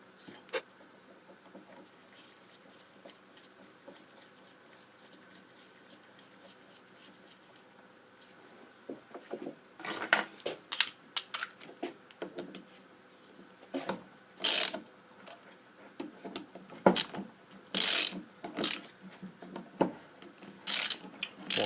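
Ratcheting clicks of a torque wrench tightening the flange bolts on a Bosch CP diesel injection pump, faint at first, then sharp irregular bursts of clicks close by, with no voices.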